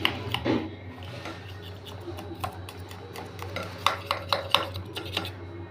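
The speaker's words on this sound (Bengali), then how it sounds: "একটা চাকু নিয়ে এইভাবে সাইডটা কেটে দেবে" Knife slicing a block of steamed egg into paneer-sized pieces, heard as light scattered taps and scrapes against a plate or board over a low background hum, with a few sharper clicks near the end.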